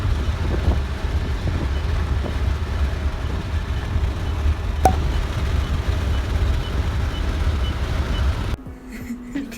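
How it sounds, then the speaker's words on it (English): A taxi speeds along, its cabin filled with a steady low road rumble and wind roar, a brief sharp tick midway, before the noise suddenly drops away near the end. "we drove in a crazy taxi"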